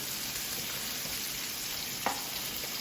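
A ribeye searing in a pan of butter with garlic and rosemary, giving a steady, dense sizzle that stays even throughout with one faint clink.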